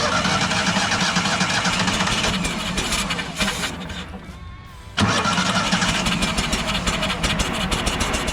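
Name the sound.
Terramite T5C backhoe engine starting and idling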